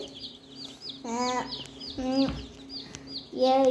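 Chickens cluck in short bursts, three harmonic calls spaced about a second apart over a faint steady hum, fairly close.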